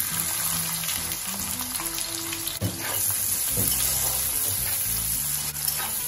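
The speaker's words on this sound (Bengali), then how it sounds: "ভালো করে পেঁয়াজ ভেজে নেব, কিন্তু খুব লাল করে ভাজবো না" Chopped onions fry in hot oil with cumin seeds and dried red chillies, a continuous bright sizzle with occasional stirring knocks and scrapes in the pan.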